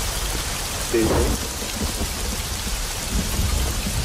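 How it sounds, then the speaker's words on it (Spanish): Steady rain pours over a room with distant thunder rumbling low beneath it, a brief voice speaking once near the start. "Hay lluvia."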